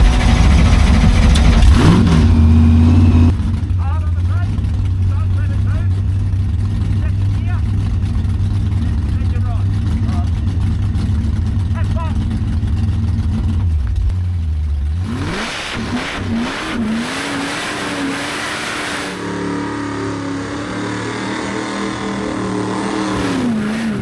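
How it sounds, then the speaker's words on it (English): A Chevrolet Camaro doing a burnout, its engine revving hard and droning at high load with tyres skidding, then the revs drop and rise again in uneven surges, loud and close throughout. "Now given that was the first time I've ever skidded the Camaro"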